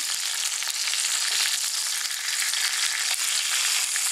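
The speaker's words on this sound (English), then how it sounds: "I'm going to give this salmon one more last flip before I take it out of the pan" Salmon fries in a hot pan with a loud, continuous close-up sizzle and crackle that hisses steadily throughout, with no talk.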